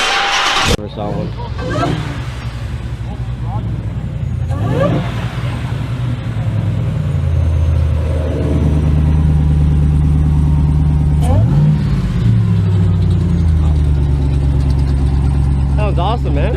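A Hemi-powered car with a Flowmaster exhaust and electric cutouts rumbles nearby. It idles deeply and then revs up in a couple of swelling bursts, while people talk over the engine.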